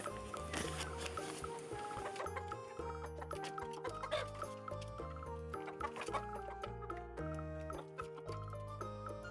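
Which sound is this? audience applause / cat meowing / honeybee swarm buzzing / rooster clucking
rooster clucking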